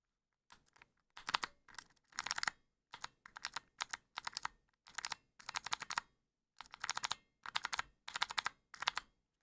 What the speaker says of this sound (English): This is with no key on it, it just has a nice little satisfying click to it